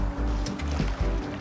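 A boat moves on water in the GTA 5 video game: a steady low engine drone with sloshing, splashing water, close and continuous, with no clear talk.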